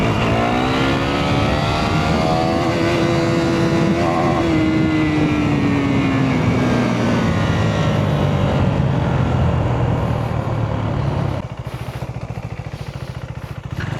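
A KTM Duke 390 motorcycle engine revs hard and loud during a power wheelie, its pitch climbing and then sliding down through gear shifts without the clutch before the roar drops off near the end.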